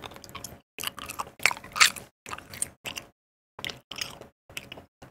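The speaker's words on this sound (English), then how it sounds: "I have some Hubba Bubba chewing gum." Hubba Bubba bubble gum chewed close to the mic, moist smacking and squishing in quick bursts separated by brief silent pauses, with no talking.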